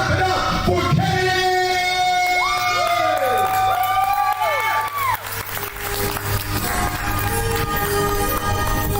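A poetry slam audience bursts into clapping and cheering for a poet, with loud whoops and shouted voices over a dense crowd roar.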